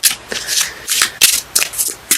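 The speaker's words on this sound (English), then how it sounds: "Cards let me know when they're done shuffling." Tarot cards are riffled and shuffled by hand in quick, close bursts, several crisp flutters in a row over about two seconds with brief pauses between.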